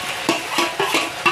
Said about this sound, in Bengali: এখানে আদা কাঁচা লঙ্কা টমেটোটা ভাজা হয়ে গেছে, এবার দিয়ে দেবো মেখে রাখা মশলা।